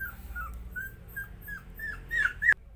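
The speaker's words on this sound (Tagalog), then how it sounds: "Hirap maglinis pag may tuta." A puppy whimpers in a string of thin, high whines, about eight close cries that grow louder toward the end, alone without talk.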